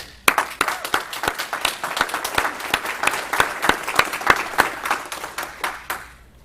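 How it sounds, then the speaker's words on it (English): Audience at a police business community forum clapping for three district lieutenants, a bright crisp round of many hands with distinct sharp claps standing out, steady and fairly close, ending abruptly. "I'd like to introduce the 3 district lieutenants because they really do deserve a round of applause"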